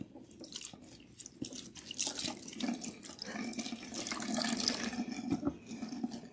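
Water runs steadily while natural hair is rinsed clean of a protein treatment, a continuous close splashing flow that swells slightly louder toward the end, with no talking.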